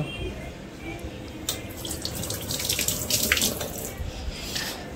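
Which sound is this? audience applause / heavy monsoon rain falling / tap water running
tap water running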